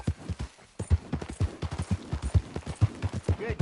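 A horse gallops in Red Dead Redemption 2, rhythmic hoofbeats pounding steadily and close with a faint background ambience, no voices.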